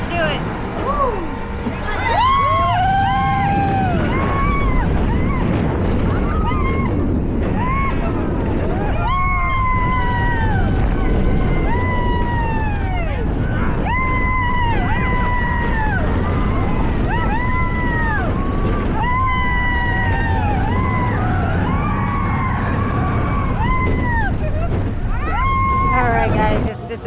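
Pony Express roller coaster at Knott's Berry Farm: a steady, loud rush of wind and track rumble under repeated rising and falling shrieks from riders or wheels, with people's voices throughout the ride.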